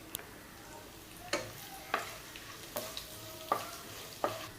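Cardamom, cloves, bay leaf and fennel seeds tempering in hot oil for gongura chicken: a faint, steady sizzle broken by about five sharp pops or stirring clicks, quiet and close.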